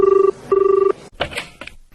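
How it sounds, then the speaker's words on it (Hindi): Classic telephone bell ringing in a radio play, two loud close double-burst rings in a regular pattern, followed by brief rustling and handling sounds. "फोन लेना ही पड़ेगा।"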